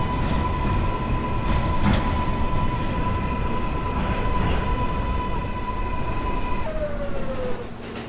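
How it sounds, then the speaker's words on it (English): A subway B train running, heard from inside: a steady loud rumble with a sustained whining motor tone that drops in pitch near the end as the noise eases slightly. "This is a Mayberry-bound B train."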